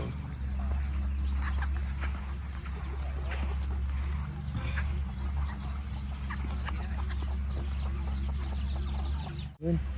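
Chicken clucking outdoors in a forest, scattered short calls over a steady low rumble, with faint voices at times.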